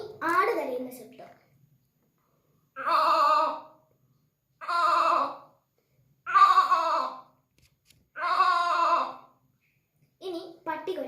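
A child imitates a goat bleating with five separate wavering bleats, each lasting about a second with short pauses between, close and clear, after a brief spoken phrase.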